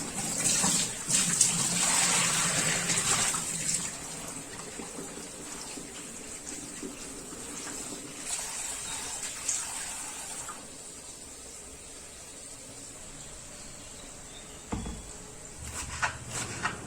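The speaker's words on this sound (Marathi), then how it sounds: "आता इथे मी चुका धुवून घेते" Running water pours steadily over sorrel leafy greens being washed by hand, strongest at first and then settling into a softer flow with occasional splashes.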